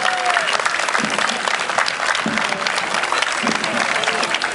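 A crowd at a shooting festival applauds an athletic club, steady dense clapping that carries on evenly throughout with faint voices beneath.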